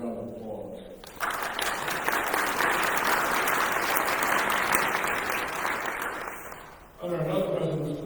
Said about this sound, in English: So give George and everybody who contributed that fund a round of applause.